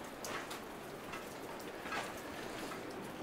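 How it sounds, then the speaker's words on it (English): Rain leaking through a trailer roof falls into collecting buckets, heard as a faint, continuous patter and hiss with scattered soft drips and splashes. "It has been very rainy and there is a lot of leaks. All these buckets are collecting water."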